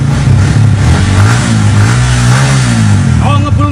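A Honda Vixen motorcycle with a smooth, factory-sealed engine revs up and settles in a rising and falling drone, loud and close, while someone talks over it.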